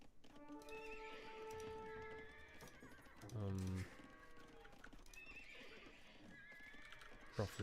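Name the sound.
horses neighing in the video game Age of Empires II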